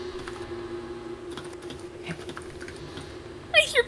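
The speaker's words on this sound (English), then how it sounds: "I hear Pandora typing" Steady clicking of keys on a computer keyboard over a low background hum in the Roblox game Pressure, ending with a brief bright electronic sound.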